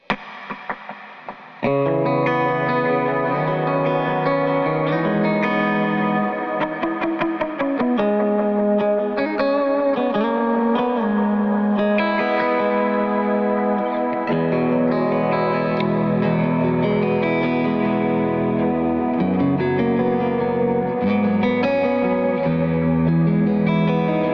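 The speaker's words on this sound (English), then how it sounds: "I'm going to turn up a little more reverb" An electric guitar plays through a TeddyTones Cleanwater V2 with the reverb turned up. Sustained chords and single notes ring out in a continuous passage, with a lush wash of reverb trailing each note. There is no talking.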